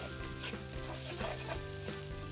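Boiled Korean ramen noodles stirred into sauce in a hot pan, a continuous close sizzle and frying hiss with soft scraping strokes of the stirring utensil, no voices.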